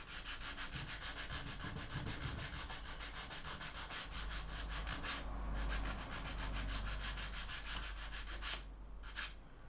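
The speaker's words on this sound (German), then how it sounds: "Und hier eben mit dem Schleifpapier das nochmal ein bisschen glatter machen." Steady, continuous sanding of a Harley Benton guitar kit body with 320-grit sandpaper, close and dry with a gritty rasp, running the whole time without pause; no speech.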